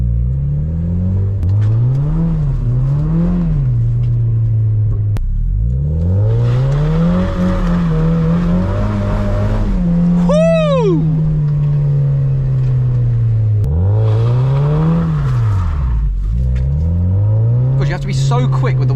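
A Mazda MX5 2.0L Sport engine revs hard on private land while the car drifts, rising and falling in repeated surges with a squealing tyre chirp midway, under continuous talk from people in the car.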